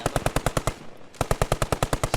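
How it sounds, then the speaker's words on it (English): Machine gun fire in a video game battle sounds as two rapid bursts of evenly spaced shots, loud and close, split by a short pause with no talking. "There's an MG in there."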